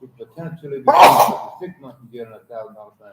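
A single loud sneeze bursts out in a courtroom, cutting across someone speaking steadily, who carries on talking right after it.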